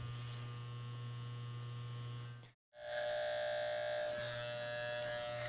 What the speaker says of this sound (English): so I'm going to take the clipper and go down